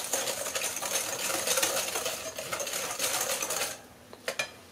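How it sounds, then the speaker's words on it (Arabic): A handheld electric mixer whirs steadily through batter ingredients in a kitchen, for mini harcha-style semolina cakes, a continuous buzzing drone that stops near the end with a couple of clinks against the bowl. "صافي كنخلط غير بالخلاط اليدوي بحال هكا حتى كنخلط جميع المكونات"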